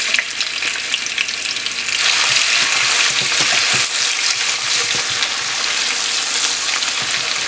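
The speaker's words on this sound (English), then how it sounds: "cumin seeds and curry leaves to it. And you add the onions." Onions fry with mustard, cumin seeds and curry leaves in hot oil for a red fish curry, a loud, dense sizzle that surges as they hit the pan, with stirring scrapes throughout.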